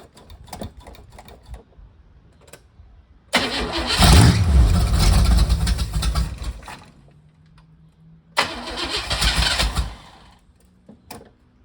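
A 1986 Oldsmobile Cutlass running on five-year-old gas cranks in two loud bursts of starter grinding, the first catching briefly with a rough engine roar before dying out.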